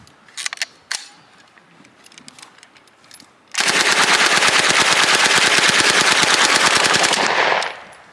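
A carbine fires a long, loud, rapid automatic burst lasting about four seconds, a dense string of sharp shots, after a few scattered clicks and thumps; no talk during the burst.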